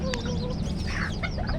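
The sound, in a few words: bantam (ayam KT) chickens clucking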